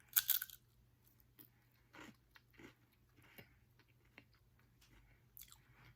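Loud, close crunching and biting while eating low-calorie chips, with several distinct crisp bites and chewing bursts spaced across quiet pauses over a low steady hum.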